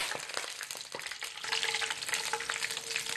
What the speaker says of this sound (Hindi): हमने इसको जो है हल्का सा लाइटली फ्राई कर लेना है।